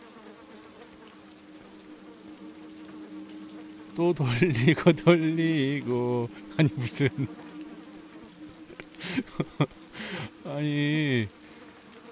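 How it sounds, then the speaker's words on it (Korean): In the Layers of Fear 2 video game, a fly's steady, faint buzz hums throughout, while someone talks in short bursts over it partway through. "아우, 파리 소리."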